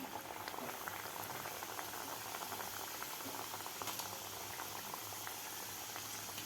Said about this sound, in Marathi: तेलसुद्धा आपलं गरम झालेलं आहे तर आता आपण यामध्ये तळून घेऊया